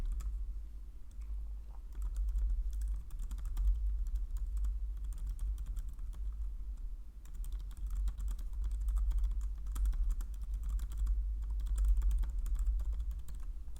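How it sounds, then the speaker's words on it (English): Steady typing on a computer keyboard, a continuous patter of quick key clicks over a low constant hum, close and even, with short pauses between bursts. "So let me type this in real quick."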